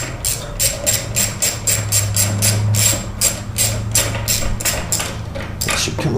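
Rapid rhythmic metallic clicking of a 10mm socket wrench with an extension backing out carburetor bolts on a Briggs and Stratton Quantum 6 HP mower engine, close and steady with short pauses.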